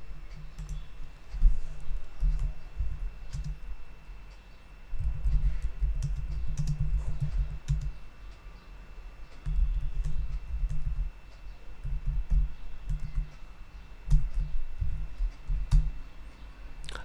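Bursts of typing on a computer keyboard while a C program is written, clustered key clicks coming in irregular runs with short pauses between them, close and fairly quiet.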